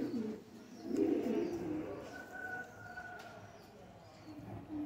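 Golden pigeons in a breeding setup give soft, low cooing at close range, repeated in short swells against a faint background hum.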